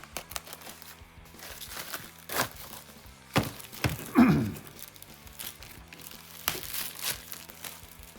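Crinkling, scraping and crackling come from peeling stubborn protective film off a ROKR plywood puzzle, with irregular close bursts, a few louder tearing strips and small knocks, and no talking.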